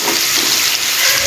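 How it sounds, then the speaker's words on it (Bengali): Onions frying in a pan to go with hilsa fish, a steady, loud, close hiss of sizzling oil with no pauses and no talk. "এখানে পেঁয়াজ ভেজে নিব ইলিশ মাছের জন্য।"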